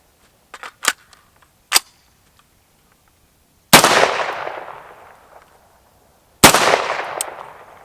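Two sharp, loud gunshots ring out several seconds apart, each trailing off in a long echoing decay, after a few faint metallic clicks of firearm handling.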